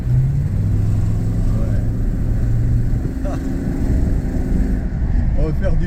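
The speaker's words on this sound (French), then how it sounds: "si je veux accélérer, je vais donner un coup d'accélérateur." A Rolls-Royce engine pulls hard as the driver presses the accelerator, a loud, steady drone heard close from inside the car with a low rising tone near the start.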